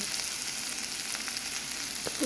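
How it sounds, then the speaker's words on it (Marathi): Food sautéing in a pan after a tempering of mustard seeds, asafoetida and peanuts, a steady broadband sizzle with faint stirring scrapes near the end. "तर मग आता हे परतायचं व्यवस्थित व्यवस्थित परतायचं"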